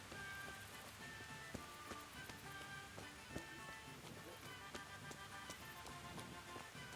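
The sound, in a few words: rain in the video game Kingdom Come: Deliverance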